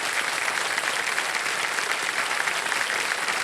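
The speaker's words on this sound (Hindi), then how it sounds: "जोरदार तालियां बज जाती हैं जी की" Loud, sustained applause from a studio audience at a televised quiz show, dense steady clapping filling the whole stretch without pause.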